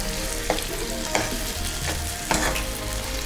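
Four tomatoes fry in a pan for a hara kofta dahi masala curry gravy, giving a steady, close sizzle broken by four or so scraping stirs at irregular intervals, with no voices.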